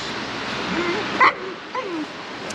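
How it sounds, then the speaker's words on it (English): An excited Labrador gives short yips and a sharp bark up close, with a brief whining tone between, the sounds spaced unevenly and loud over faint background noise. "That's just a silly bark, isn't it, that?"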